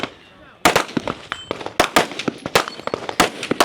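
Rifle shots ring out at a women's elite shooting competition stage, a rapid series of sharp cracks from targets about 150 yards away, some nearly overlapping, following a brief quiet start.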